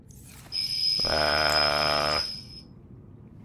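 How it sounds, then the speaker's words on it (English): A mobile phone rings with a single sustained electronic tone lasting about one and a half seconds, loud and close, alone in a quiet room. "yes, that's my phone"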